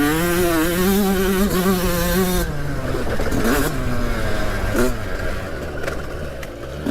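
A rare 135cc two-stroke dirt bike ridden on a race track, its engine droning loud and close, pitch climbing and falling as the throttle opens and shifts, with a buzzy wavering whine that drops back partway through.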